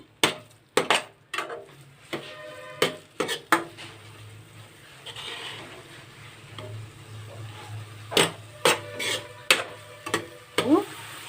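Ground paste stirred and fried in ghee for a Rajasthani halwa, with repeated sharp scraping clicks of a spoon against the pan over a low, faint sizzle, no talking.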